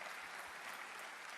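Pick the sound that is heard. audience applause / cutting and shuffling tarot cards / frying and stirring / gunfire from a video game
audience applause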